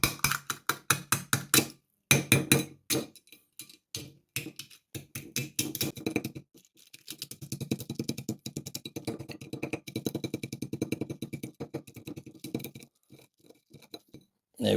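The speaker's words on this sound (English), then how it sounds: "we're going to literally just crack this shell. I've actually got a big spoon thing here to do it with." A big spoon cracking a shell, heard as rapid bursts of sharp, clicky taps and crunches in clusters with short pauses between, close and fairly loud, with no talking.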